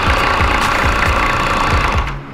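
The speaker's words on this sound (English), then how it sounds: "so we ran our overlock now" An overlock sewing machine running steadily while it stitches and trims a fabric seam, giving a loud, close, fast mechanical chatter that stops abruptly at the end.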